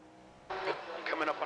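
Race car engines in the iRacing sim during a Daytona 24-hour endurance race roar in suddenly after a quiet start, staying loud and close with rising tones through the rest.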